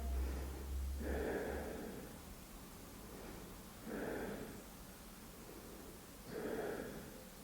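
Three slow, deep breaths held in a yoga pose, each a soft airy inhale or exhale swelling and fading at an even, unhurried pace, close and quiet with no talking.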